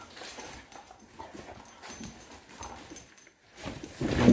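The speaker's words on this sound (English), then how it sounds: "I must apologise for the behaviour of my dog" A dog whimpers and yelps restlessly during an evening prayer service, its fitful cries rising and falling over a few seconds against a noisy indoor background, with no talking.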